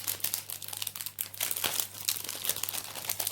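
Wrapping paper crinkles and rustles steadily as a package is opened, a close, continuous papery crackle with small tearing bursts and no talking.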